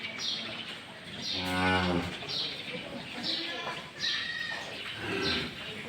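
Friesian dairy cows mooing on a farm: one long, deep moo stands out amid other lowing cows and background chatter.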